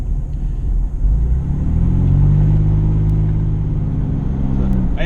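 Steady low road roar from 33x12.50R15 General Grabber ATX all-terrain tires on a vehicle merging onto an interstate, a continuous rumble with rising engine drone, loud and unbroken with no talk.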